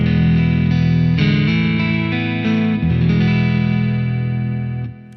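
A clean electric guitar through an Orange amp, with delay and reverb heard through a monitor, plays sustained chords with a slight grit. The notes ring loud and unbroken for several seconds before trailing away.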